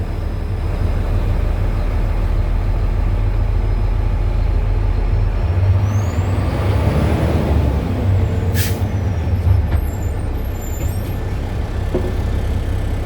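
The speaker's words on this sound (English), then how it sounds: "I pull forward at 5 miles an hour to check my service brake." A truck rumbles with a steady low engine drone as it creeps forward at about five miles an hour, then a sharp air-brake hiss bursts out midway over the continuous cab noise.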